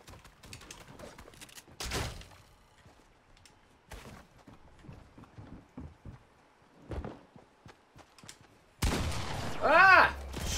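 Fortnite SMG fire comes as scattered short bursts and clicks amid footsteps, then a louder rattling spray with a ringing effect near the end, while someone talks intermittently.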